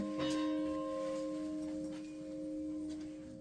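A bell rung by pulling its rope at a summer survival camp in Bloke sounds one clear struck tone that rings on with a long, steady, humming decay, heard alone without voices.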